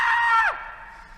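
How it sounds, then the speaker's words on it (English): A comedic flood-warning sound effect on a talk radio show. A loud, shrill, siren-like wail holds for about half a second, then drops sharply in pitch and fades out. "And a flood warning sounds like this."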